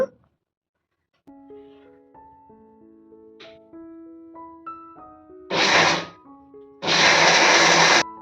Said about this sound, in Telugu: ఇంకా పల్లి చట్నీ మిక్సీ చేస్తున్నా